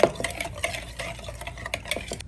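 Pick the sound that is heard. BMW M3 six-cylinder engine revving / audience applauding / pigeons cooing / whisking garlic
whisking garlic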